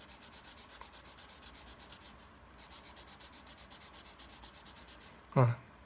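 Rhythmic scratchy rubbing strokes of thick charcoal on paper while drawing a landscape, steady back-and-forth with a brief pause midway, close and soft, ending with a short louder knock.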